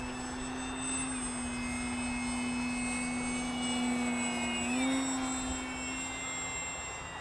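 E-flite 1.5 m M7 Maule RC model airplane in flight outdoors, its steady electric motor whine holding a constant pitch with a brief rise near the end as it passes, continuous and moderately loud.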